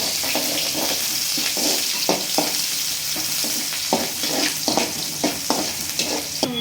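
Onions, mustard seeds and curry leaves frying for a bean palya, a constant close sizzle broken by repeated scraping strokes of a spatula stirring the pan, no talk.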